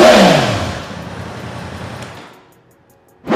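A stock-exhaust 2024 Yamaha R1M motorcycle engine revs loudly close by, then the sound fades over about two seconds. A fresh rev bursts in right at the end.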